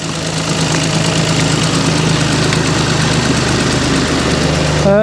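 A salvaged 2020 Renault Clio, repaired with Nissan parts, idles close by, a steady, loud, even engine rumble running on its own.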